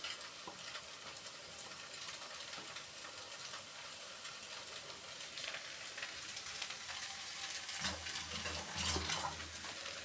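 Eggs added to a pan of egg polao, giving a steady faint sizzle and bubbling with a brief louder stir or clatter near the end.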